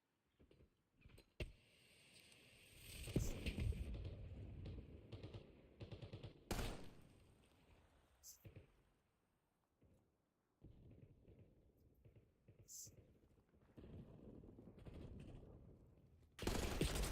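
Gunfire from Black Ops 6, a video game, with bursts of automatic fire and scattered single shots spread unevenly through the stretch, loud and close at times with quieter gaps between.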